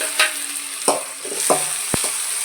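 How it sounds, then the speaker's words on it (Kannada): Tomato frying and being stirred in a pan for egg Maggi noodles, a steady sizzle with several scraping stirs of a spoon, close up and without talking. "ಚೆನ್ನಾಗಿ ಫ್ರೈ ಆದಮೇಲೆ ನಾನು ಇದಕ್ಕೆ ಒಂದು ಟೊಮೊಟೊನೂ ಸಹ ಸೇರಿಸ್ಕೊಳ್ತಾ ಇದ್ದೀನಿ"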